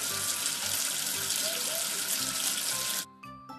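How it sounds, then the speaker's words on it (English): Tap water runs steadily for about three seconds as soap is rinsed off, a loud close rush that stops abruptly near the end. "Wash away the soap with water."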